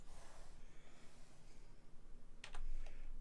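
A computer keyboard is tapped with a few quick clicking keystrokes near the end, under a steady faint room hiss and soft breathing.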